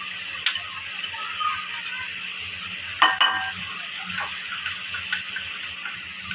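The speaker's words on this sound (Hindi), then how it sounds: "अब हम इसमें डालेंगे सूखे हुए नीम के पत्ते।" Dried neem leaves dropped into hot oil on a low flame, giving a soft, steady crackling sizzle with a brief louder burst of spattering around the middle, no voices over it.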